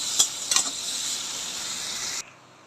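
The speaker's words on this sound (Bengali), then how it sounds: "এখানে চিংড়ি মাছ ভাজা হচ্ছে।" Prawns frying in a pan in a home kitchen, a steady loud hissing sizzle with two brief sharper crackles near the start, cutting off abruptly near the end.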